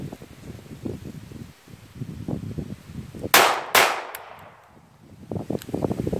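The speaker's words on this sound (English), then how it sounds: "I decided that I shoot one more mag with the Oscure Sun ammo just to see if there will be some problems with it." Two sharp, close pistol shots about half a second apart from an Ekol Volga handgun loaded with Oscure Sun ammunition, heard outdoors over rustling wind and ambient noise.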